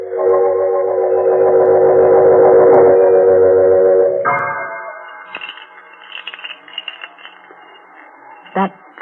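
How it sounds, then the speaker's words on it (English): Eerie radio drama sound effect for a haunted bog oak necklace: a loud droning, wavering tone that cuts off abruptly and gives way to faint sparse chiming and tinkling sounds. "the sound the necklace makes."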